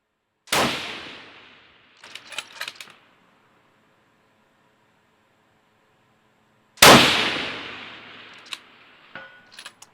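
Two loud, sharp 6.5 Creedmoor rifle shots about six seconds apart, each with a decaying echo tail followed by brief clicking and metallic rattles from the rifle's action.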